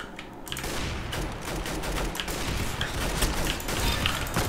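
Rapid bursts of gunfire from a Maxim 9 pistol in a competitive first-person shooter, repeated shots crackling loudly and steadily throughout with no pauses, busy game sounds underneath.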